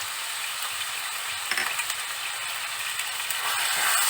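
Beef mince with ginger garlic paste fries in a pan, hissing and sizzling steadily up close, with a few spoon scrapes around the middle and a louder swell of sizzle near the end.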